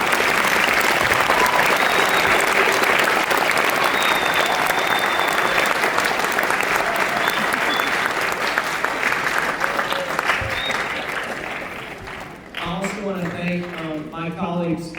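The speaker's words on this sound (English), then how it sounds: "Would you please give them a round of applause?" A school audience at a sixth-grade spring concert applauds, with thick, sustained clapping that holds for about twelve seconds, thins out, and then gives way to a voice speaking over the fading claps.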